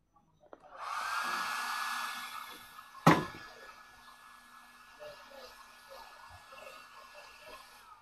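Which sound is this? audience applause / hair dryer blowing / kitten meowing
hair dryer blowing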